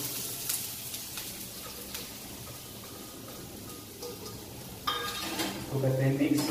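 Ground onion paste hits hot oil in a home kitchen pan, with a soft sizzle and scattered utensil clinks that swell into louder, fuller frying near the end.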